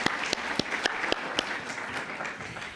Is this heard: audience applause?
yes